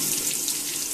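Water runs steadily from a tap while a makeup brush is rinsed, a continuous close splashing hiss with no voices.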